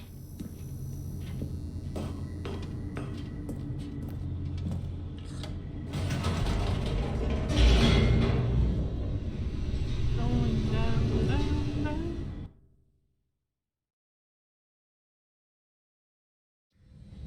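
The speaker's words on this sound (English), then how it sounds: "The elevator raced downward, plummeting towards an unknown fate." The Stanley Parable elevator descends with a steady mechanical rumble and ratcheting gear clatter that swells midway, then cuts off abruptly into silence.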